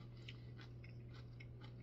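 Soft, crisp crunching bites into a raw purple jalapeno pepper, several quick chews close to the mouth over a faint steady hum.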